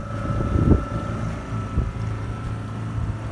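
A sailboat motoring along the Cap Corse coast with a little sail up, the engine a low steady drone under wind buffeting the microphone, with a couple of brief thumps, no talk.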